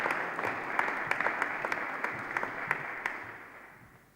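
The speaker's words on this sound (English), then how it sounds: "Please, a round of applause to the Minister." Audience at a post-budget breakfast event applauds the Minister, a room of clapping with a few distinct close claps, gradually tapering off and fading out.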